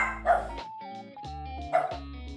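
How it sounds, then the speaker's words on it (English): A small dog gives a couple of sharp yips and barks, loud and close, separated by short pauses with a steady tone running between them. "dog's barking."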